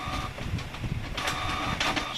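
An inkjet printer running a Halloween image, with a steady close mechanical whir and bursts of carriage and feed rattling through the whole stretch.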